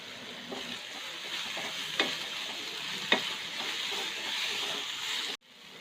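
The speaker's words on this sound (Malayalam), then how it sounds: "അപ്പോൾ സവാള പെട്ടെന്ന് വഴണ്ട് വരാൻ വേണ്ടി നമുക്ക് കുറച്ച് ഉപ്പ് ആഡ് ചെയ്ത് കൊടുക്കാം." Sliced onions sauté with salt in a hot pan, sizzling steadily with occasional sharp spatula clicks and stirring scrapes, close and continuous until it cuts off abruptly near the end.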